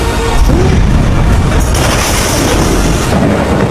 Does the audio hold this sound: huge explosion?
yes